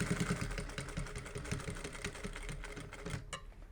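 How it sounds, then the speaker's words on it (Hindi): A sewing machine stitching the corner of a homemade shopping bag, close and fairly quiet, with a rapid rhythmic needle clatter running steadily throughout. "सिलाई करेंगे"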